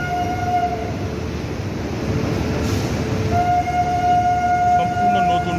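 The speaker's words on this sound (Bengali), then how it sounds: "নতুন ট্রেন আর নতুন রুটে যাত্রা শুরু" The brand-new Kolkata Sairam Express pulls out of Kolkata station, a loud continuous rumble of rolling wagons with a steady horn-like tone coming and going over the clatter, heard close from aboard or alongside.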